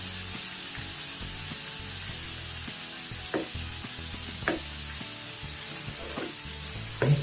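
Garlic fries in oil over a low-to-medium flame while chilli oil is being made, producing a continuous close sizzle with a few faint clinks scattered through it. No one speaks.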